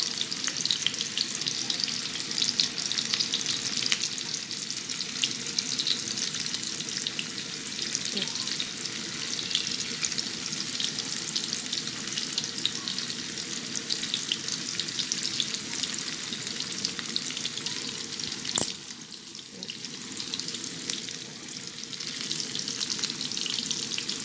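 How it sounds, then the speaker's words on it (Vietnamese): Pumpkin pieces fry skin-side down in hot oil for a vegan braised dish, a loud, continuous close sizzle that holds steady throughout with one brief knock, and no speech. "Còn cái hoàng bí này thì các bạn chiên cho mình cái lớp da của nó ở dưới thôi."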